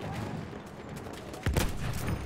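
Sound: enemy machine gun firing in video game Battlefield 1

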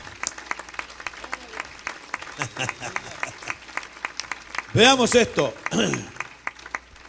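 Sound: applause

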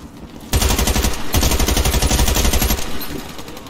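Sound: gunfire from an enemy in the video game Warface

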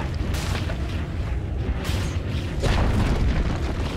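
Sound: tower being destroyed in the video game Dota 2

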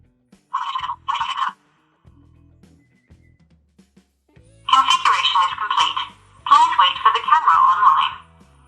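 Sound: smart camera confirmation beep

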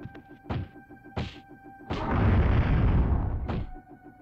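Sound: grenade thrown in a video game (The Fifth Element)

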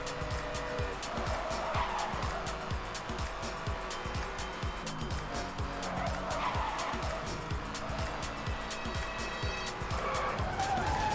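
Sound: car drifting with tire squeal in Need for Speed Hot Pursuit video game

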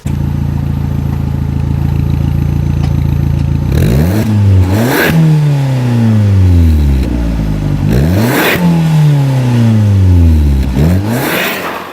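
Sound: car engine revving

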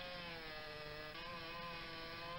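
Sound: chainsaw cutting a fallen tree trunk

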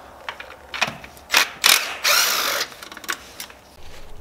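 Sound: ratchet removing 10 mm bolts from coil pack bracket

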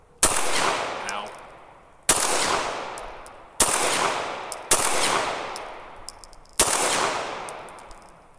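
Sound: CZ 75 SP01 Phantom pistol shots being fired

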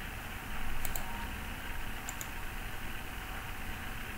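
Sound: computer mouse clicking

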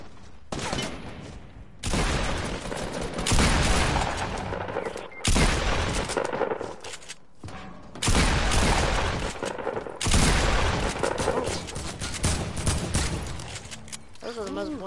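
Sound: gunfire in a shooting video game, likely Fortnite

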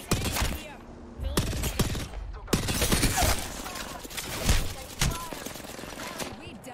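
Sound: gunfire in a shooter video game

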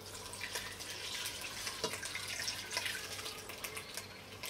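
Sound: water poured into pot to cover meat stock

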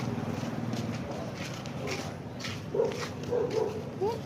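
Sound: dog growling and barking

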